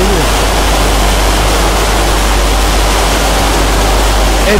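Water cascading in an olive mill washing tank, a loud, dense, unbroken rush of falling water that fills the whole stretch with no audible talk.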